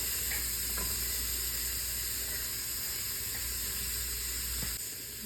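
Onions and green chilli frying in hot oil: a steady, dense sizzle and hiss running close and loud throughout, with faint clinks of stirring underneath.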